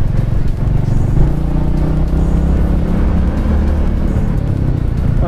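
A Royal Enfield Meteor 350 motorcycle, 2023 model, rides through a crowded road with a steady, loud engine rumble throughout, slight throttle changes and no talk.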